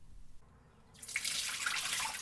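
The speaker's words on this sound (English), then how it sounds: "After the soak, discard the water and gently rinse the oats." A sink tap turns on after a quiet moment and runs in a steady close splashing rush as soaked oats are rinsed, with no talking.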